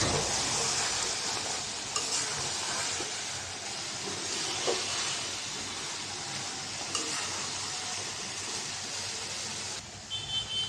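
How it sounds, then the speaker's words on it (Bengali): Pumpkin frying in a pan and being stirred, a steady close sizzle with occasional scraping stir strokes and no voices. "তো মিষ্টি কুমড়াটা একদম ভাজা ভাজা করে ফেলেছি।"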